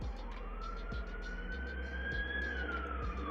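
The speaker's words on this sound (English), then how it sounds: "the sirens of Pinerest police literally a block away." A police siren wails in a long rising tone over a low engine rumble, moderately distant and steady, about a block away.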